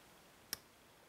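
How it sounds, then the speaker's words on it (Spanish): One short, bright click from a pin inside a vintage 1973 Corbin padlock during lock picking, heard close up and alone in near silence. "ahí ha hecho un clic, segundo pide, un clic"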